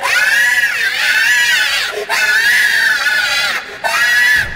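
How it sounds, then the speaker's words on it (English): The Monkey Bomb toy in Call of Duty's Der Riese zombies map screams shrilly after being thrown into a furnace: three loud, sustained wails, each breaking briefly before the next, with no talk. "this toy seems to be possessed, as it screams in pain if it's thrown into a furnace"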